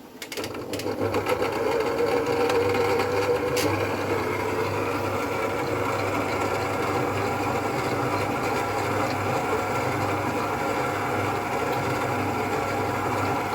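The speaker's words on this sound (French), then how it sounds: "Et on va basculer le robot. Et on va mixer." A kitchen robot food processor mixes a preparation, producing a steady, close motor hum with a rattling drone that starts after a few brief clicks and keeps running evenly to the end, with no one speaking.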